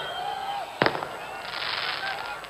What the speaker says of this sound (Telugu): ఆ టపాకాయలు ఆపమని చెప్పండి బాబు